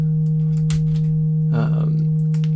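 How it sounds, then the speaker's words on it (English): A steady, pure electronic sine tone from a synthesizer oscillator hums continuously, with a brief buzzy chirp breaking in partway through. "So there's the sine wave from Orgasmatron."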